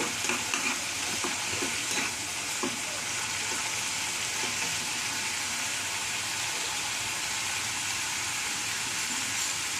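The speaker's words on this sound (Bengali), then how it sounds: "একটু নাড়াচাড়া করব" A spoon stirs shahi doodh paneer in a hot pan, giving a continuous close sizzle and bubbling with soft scraping strokes, heaviest at the start, and no talking.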